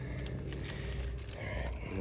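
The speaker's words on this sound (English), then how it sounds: "let's drop my keys." A bunch of keys is dropped and jingles briefly in a parking lot near a race track, a faint metallic jangle over low background engine rumble.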